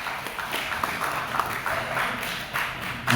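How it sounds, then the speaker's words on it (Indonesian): An audience applauding for a guest speaker at a school talk on positive discipline, a steady wash of many hands clapping that runs unbroken and moderately loud. "Beri aplaus untuk Pak Ginanjar."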